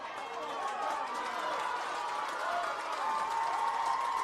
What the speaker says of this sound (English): St. Kevin's crowd, if you can hear below me, full of excitement.